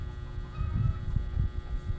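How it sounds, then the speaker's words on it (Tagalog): Rooster clucking close by in an outdoor setting, a run of low, throaty bursts repeating in an uneven rhythm over steady background noise, with no talking. "Putak na sad ang sunoy anak."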